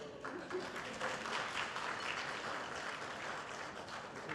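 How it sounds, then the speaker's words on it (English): A crowd at a studio inauguration in Banbury, Oxfordshire, gives a short round of applause, a continuous patter of clapping heard faintly and evenly from a distance. "A little bit of a cheer."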